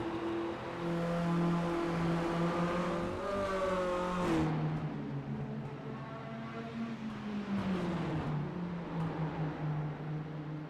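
Race cars circulating at Lime Rock, a loud close engine drone that rises in pitch as a car accelerates, dips, then climbs again through gear changes, with another car's tone layered in and no voices.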